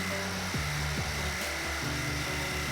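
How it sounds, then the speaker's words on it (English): A power drill bores through wood to make a starting hole for a jigsaw blade while building a cat tower, a steady whirring motor with a few short pitch dips as the bit bites, close and continuous. "So you can drill through because you're going to start your jigsaw."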